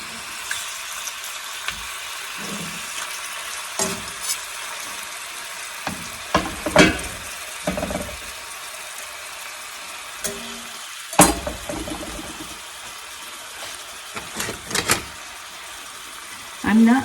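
Beef chunks brown in a pot for beef barley soup, a sporadic sizzle and crackle with occasional louder bursts and stirring clatter, heard fairly close and without talk.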